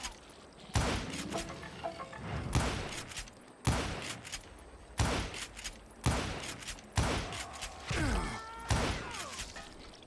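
Gunshots ring out in a Western shootout in Call of Juarez, loud sharp blasts fired one after another at irregular intervals with echoing tails between them, no voices.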